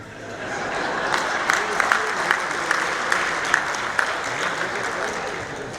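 Applause from an audience at a Haryanvi poet's comedy performance in Dubai, a steady broad patter of many hands lasting several seconds, with scattered sharper claps and faint voices underneath.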